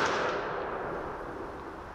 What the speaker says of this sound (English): More specifically, the ubiquitous muzzle-loading Springfield rifle